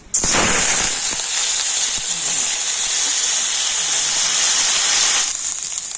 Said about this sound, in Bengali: তেল কিন্তু ভালো মতো গরম হয়ে গিয়েছে আর এবার আমি কেটে রাখা পটলগুলো তেলের মধ্যে দিয়ে দিচ্ছি